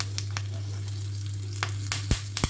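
Curry leaves dropped into hot oil for a South Indian tempering, a steady low sizzle with a few sharp crackles and pops near the end, close and without talk.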